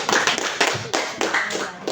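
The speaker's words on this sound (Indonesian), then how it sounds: "tepuk tangan untuk kita semua" Students in a classroom clap together in a brief burst of applause, irregular and fairly close, with some voices mixed in.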